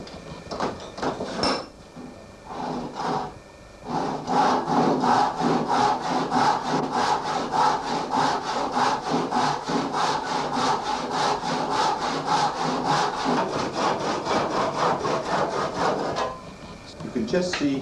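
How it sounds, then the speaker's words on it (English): A hand saw cuts through the back of a carved wooden spoon in steady, even back-and-forth strokes, close and fairly loud, with a few hesitant strokes before the rhythm settles. "So I'm cutting down there, I'm cutting through the back as well."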